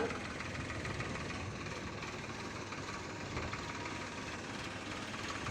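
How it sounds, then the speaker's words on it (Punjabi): A low, steady tractor engine rumble runs continuously, like idling nearby, with ploughs attached, in a farm field being sown with millet and maize, with no talking. "ਇੱਧਰ ਆ ਗਿਆ ਟਰੈਕਟਰ"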